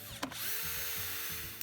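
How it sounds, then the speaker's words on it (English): A power drill bores a magnet hole into a wooden ring or coin box, its steady whine running loud and close for over a second, with no one talking. "Now let's drill the bottom one."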